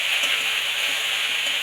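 Chopped pea greens going into hot oil tempered with dry chili and bay leaf, a loud continuous close-up sizzle with a faint stir, no one talking.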